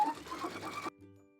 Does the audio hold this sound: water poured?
no